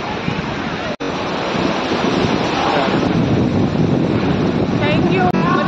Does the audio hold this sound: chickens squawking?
no